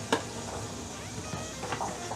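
Chopped onion half rings dropping into a hot pot for a smoked sausage stew, giving a soft clatter followed by a steady low sizzle and faint stirring.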